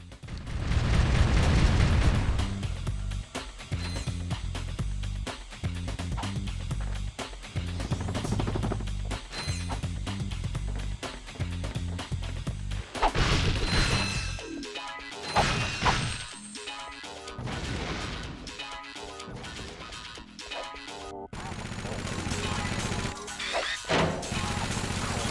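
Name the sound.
enemies smashed and exploding in Ratchet & Clank video game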